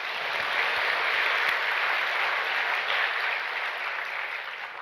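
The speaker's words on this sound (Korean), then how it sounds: "박수 한번 해주자." A church congregation applauds the Jerusalem choir at Incheon Full Gospel Church during a Sunday service, a steady, even wash of clapping from many hands that holds evenly and fades slightly at the end.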